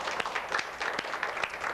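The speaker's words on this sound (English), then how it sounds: "Give yourselves a big round of applause." A small group of fourth graders claps in a short burst of applause, a dense patter of hand claps with a few sharper individual slaps, close and steady without voices.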